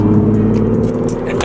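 Nissan 370Z fitted with a Tomei exhaust, heard close up with a loud, steady droning engine and exhaust note under load, strong low rumble with layered harmonics.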